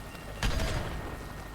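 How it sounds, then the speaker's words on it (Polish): A single muffled blast from a bombing air strike in the video game Worms W.M.D hits suddenly, followed by a brief crackling rumble that fades into a low steady hum. "Atak bombowy trochę wyszedł"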